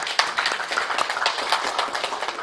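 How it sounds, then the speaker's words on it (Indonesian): Audience applause at a public event honoring a former official, a steady dense patter of many hands clapping at moderate level throughout. "Sekali tepuk tangan buat Pak Teras Narang."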